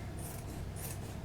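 Scissors snipping paper by hand, a steady run of soft crisp cuts repeating close up with no talking.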